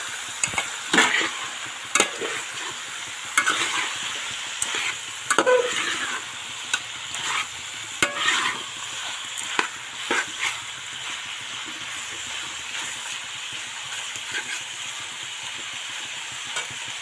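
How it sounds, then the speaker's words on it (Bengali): Two large chicken leg pieces frying in a pan, a steady close sizzle with intermittent scraping stirs and clacks of a utensil against the pan, no talking. "ততক্ষণ এটা ভালো করে ভাজা হোক"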